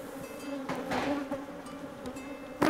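Honeybees buzz around an open hive in a steady, dense drone made of many insects, with some passing closer and louder while others hum at a distance.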